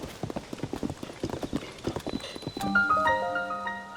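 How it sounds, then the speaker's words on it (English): A horse's hooves in the Tears of the Kingdom video game clop in a rapid, even galloping rhythm close by, then give way to a bright run of chiming musical tones. "I hear my horse."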